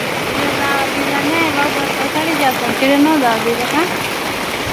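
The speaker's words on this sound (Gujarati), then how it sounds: "તો જો વરસાદ ચાલુ થઈ ગયો છે." Rain keeps up a steady hiss while a voice talks over it.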